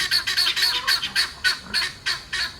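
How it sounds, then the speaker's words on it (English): Guinea fowl on a farm give a rapid run of harsh, repeated squawking calls in an even rhythm, about a dozen bursts, fairly close and clear with no talking. "put an audio clip of guineas in every Alaska video just so you don't miss that sound"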